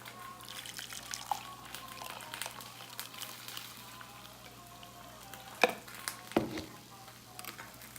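Breakfast frying in a pan, a soft steady sizzle running underneath with a few sharper clinks and pops now and then, no one talking.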